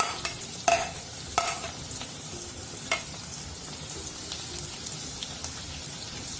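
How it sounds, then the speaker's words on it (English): Chopped onion and green chili fry with curry leaves in a pan for pepper chicken. The close sizzle is steady and crackling, with a few sharp clinks and scrapes of stirring throughout. "Fry until the onions turn golden brown."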